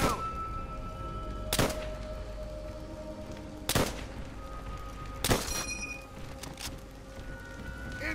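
A machine gun nest opening up in Call of Duty: World at War: three loud, sharp gunshot cracks spaced a couple of seconds apart over a low battlefield rumble.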